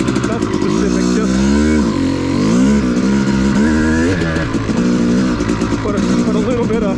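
Off-road motorcycle at a cycle trail, ridden back and forth slowly to warm up, its engine revving and shifting pitch continuously and loudly close by, with a voice talking over it throughout.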